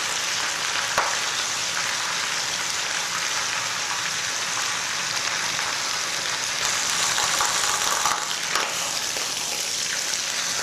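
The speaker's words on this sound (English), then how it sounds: "If you could hear the sound, I am cooking this vegetables in high heat" Vegetables stir-fried over high heat in a wok with ginger, onion and pork give a dense, loud, steady sizzle like heavy rain throughout, with faint occasional scrapes of stirring.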